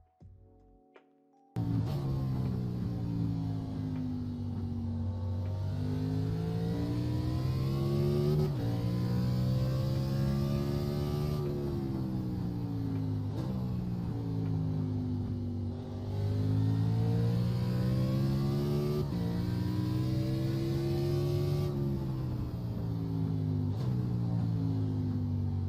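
Truck engine in iRacing on a hot lap at Chicagoland Speedway, a loud steady high-revving drone with rising and falling pitch through the gears and corners, running continuously after a brief quiet start.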